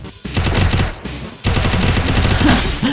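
Loud bursts of shotgun fire in a mobile battle-royale shooter, dense and rapid with a brief gap between two volleys, sounding harsh and close.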